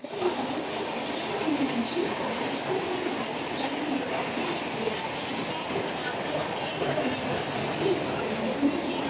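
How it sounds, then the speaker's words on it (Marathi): A Diva local train on the Mumbai suburban line arrives at a station platform, a steady rumble of wheels and carriages with faint clatter and crowd murmur throughout. "दिवा ट्रेन लागले"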